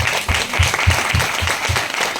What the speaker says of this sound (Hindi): मैं चाहता हूँ जोरदार तालियां होनी चाहिए